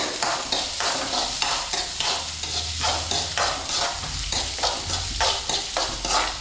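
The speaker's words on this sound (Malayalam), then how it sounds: "സവാള ഇട്ടൊന്ന് വഴറ്റാം" Onion sautéed and stirred in a pan for a peperomia (vellappacha) thoran: continuous close frying sizzle broken by regular scraping strokes of the spatula, fairly loud, with no talking.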